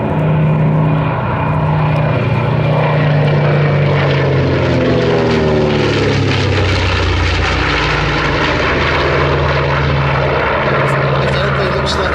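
A vintage propeller-driven warplane stripped of its guns and ammunition flies past at the Sywell airshow, its loud piston-engine drone sweeping in pitch and filling the air throughout while a voice talks over it.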